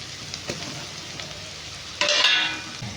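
Ginger, garlic and ground spices fry in a pan as they are stirred, a soft steady sizzle with faint scrapes that swells into a louder hiss near the end, with no speech.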